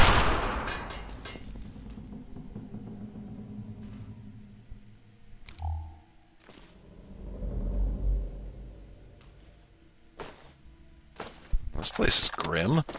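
Automated turret fire in the video game Fallout 3, with several short sharp bursts and bangs scattered across the scene over low rumble, and someone talking throughout.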